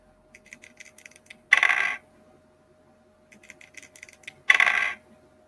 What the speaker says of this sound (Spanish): el audio que se escucha al momento de tirar los dados